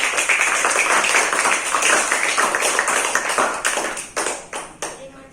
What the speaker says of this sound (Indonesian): sekali lagi tepuk tangan untuk ketiganya